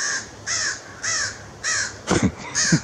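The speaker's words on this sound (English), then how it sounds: "Funny crows." Crows caw outdoors in a series of four loud, clear, evenly spaced calls, followed by a couple of quicker, harsher caws at the end.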